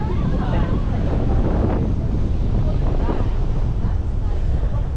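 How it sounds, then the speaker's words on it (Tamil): Strong wind buffets the microphone in a constant roaring rush on the Vagamon hill meadows, with occasional murmured voices underneath. "காற்றடிக்க உங்களுக்கு சவுண்டு கேட்குதா?"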